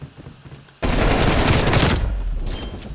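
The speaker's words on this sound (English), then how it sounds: "if you were shooting these guns all the time like this, you'd be ruined" Guns blasting in a zombie shooter game: a sudden dense burst of rapid automatic fire that rattles loudly for over a second, then trails off into scattered shots.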